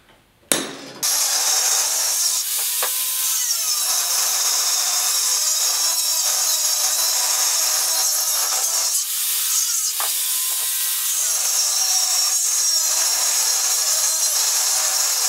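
A power saw cuts metal pieces for a front receiver hitch on a 1967–1972 Chevy or GMC pickup: a sharp start, then a steady, high, grinding whine for about fourteen seconds with slight dips, alone and close.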